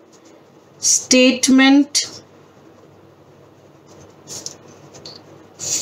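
A pen writes on paper in short, faint scratching strokes, close by, following a brief spoken word.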